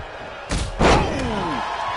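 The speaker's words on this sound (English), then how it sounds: "opening the back doors, taking a big step towards success in this ambulance match." In a wrestling video game ambulance match, the vehicle's back doors slam open with a single loud thump and clatter. A low hum rings on after it.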